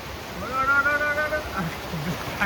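Water washing in against a shore or fort wall, a steady surging wash with a swell rising and easing, while people talk and a voice is heard over it.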